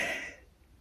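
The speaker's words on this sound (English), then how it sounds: "Still got that cough." One short cough or throat-clear from a woman, close and moderately loud, fading out within about half a second.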